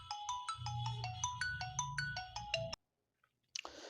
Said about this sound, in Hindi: सॉरी, तब तक फोन आ गया था